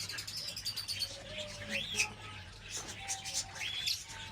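Yellow Fischer's lovebirds in a pet shop, chirping in quick bright repeated tweets and short calls, fairly close, over a low steady hum.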